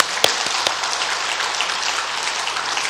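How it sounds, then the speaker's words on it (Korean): A church congregation claps in encouragement for the diakonia members during a Sunday service. The applause is dense and continuous, with a few sharper claps near the start. "그 디아코니아의 멤버들을 위해서 한번 격려의 박수 한번 해주세요"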